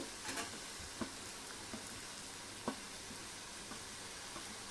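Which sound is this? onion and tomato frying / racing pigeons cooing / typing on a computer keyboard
onion and tomato frying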